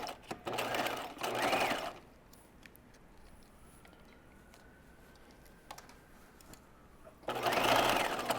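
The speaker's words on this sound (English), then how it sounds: "now we're going to stitch these together, again using a zigzag to make sure we have plenty of stretch" A home sewing machine runs a zigzag stitch along a stretch-fabric pants seam with a 5/8 inch allowance, in two short bursts of rapid whirring near the start and a third at the end, with quiet pauses between.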